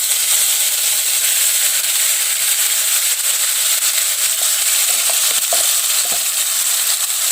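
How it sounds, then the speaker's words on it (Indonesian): A ground spice paste for sweet-and-sour beef is sautéed in a pan, giving a steady, loud, unbroken sizzling hiss with faint scattered crackles throughout. No one speaks. "sekarang kita tumis bumbu yang kita haluskan"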